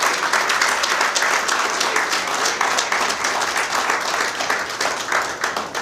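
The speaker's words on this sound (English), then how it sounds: "but give them another round of applause, please." Audience applause following a performance at an ECCB Monetary Council ceremony, steady crowded clapping at full strength throughout the few seconds, with no clear voices over it.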